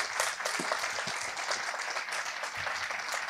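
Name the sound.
audience applause after a talk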